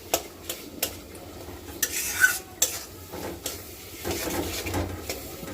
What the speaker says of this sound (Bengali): এখন আমি সুন্দর করে সব কষিয়ে নিব।